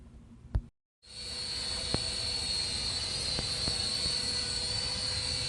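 A Maxbo A10 Cyclone drone hovers nearby with a steady high-pitched whine and hiss that starts after a brief thump and moment of silence, then holds constant, with a few faint clicks.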